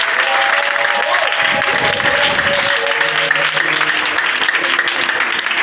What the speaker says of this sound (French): Donne-lui encore une forme d'acclamation.